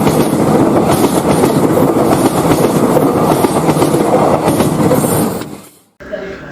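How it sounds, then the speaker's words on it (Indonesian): A train rumbles loudly along the rails near Yogyakarta station, steady rhythmic clatter, then the noise drops away abruptly into near silence before a quieter sound resumes. "Sesaat lagi kereta tiba di stasiun Yogyakarta"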